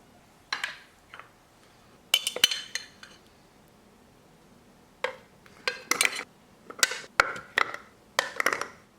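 A food processor being opened and handled while making avocado mango kiwi chutney: scattered hard plastic clicks and clinks in short bursts, some close and sharp, separated by quiet gaps.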